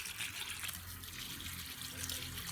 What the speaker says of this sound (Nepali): त अनि अब फुलहरुमा पनि यसो पानी हाल्न पर्यो